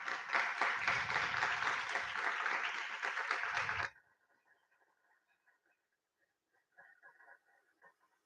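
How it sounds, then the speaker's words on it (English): Applause welcomes judges into a hall at the opening ceremony of the Churchill Cup: a dense, loud burst of clapping for about four seconds, then it stops abruptly, leaving faint scattered sounds. "Please welcome them with a big round of applause."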